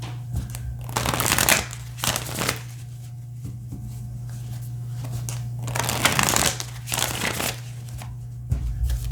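Tarot cards shuffled close up in several quick riffling bursts, separated by short pauses with a faint hum in the background.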